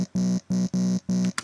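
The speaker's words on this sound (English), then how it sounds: "this little tiny saw wave," Small synthesized saw-wave bass layer for a Reese bass, playing four loud, evenly spaced buzzy notes, each cut off sharply, in a short repeating pattern.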